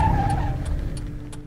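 A car brakes to a halt in the middle of an empty road, with a short tyre skid and engine rumble fading as the vehicle stops, fairly close and loud.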